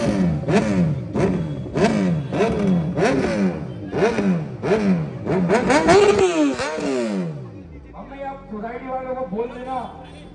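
A motorcycle engine revs hard in repeated rising, falling pulls, about eight strong throttle blips in quick rhythm before settling into a lower, softer rev, loud and close, with voices talking alongside.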